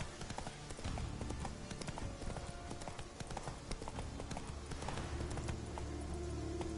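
Hooves of the horse Roach galloping in The Witcher 3, a fast steady clip-clop rhythm over ambient game sound, continuous and moderately loud.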